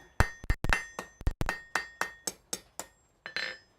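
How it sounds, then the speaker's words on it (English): A hammer rings against hot metal in a blacksmith's smithy, about a dozen sharp strikes in an uneven rhythm, each with a bright metallic ring that decays quickly, close and loud, with a brief pause before the final blows. "I will switch to a smaller hammer just so I have a smaller face to get in with."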